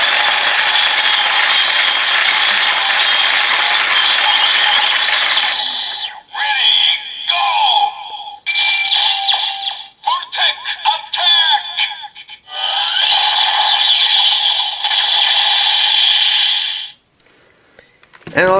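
Kamen Rider Build DX toy transformation belt with Kuma and TV Full Bottles blaring electronic finisher effects: a loud burst of synthesized sound, then choppy bursts of jingles and effects separated by gaps, ending in a long tone and a short cutoff.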